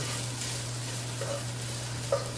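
Garlic sautéing in a pan for chicken paprika gives a steady, moderate sizzle throughout, with a couple of soft utensil touches near the end and no talk.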